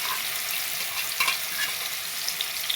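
Grated carrots for gajar halwa sizzle in a hot pan while being stirred, a close, steady frying hiss broken by a few brief scraping accents.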